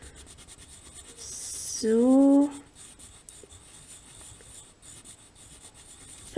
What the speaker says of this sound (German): weißen Buntstift nimmt und damit einfach in Kreisbewegungen drüber geht. Am besten ziemlich fest aufdrücken.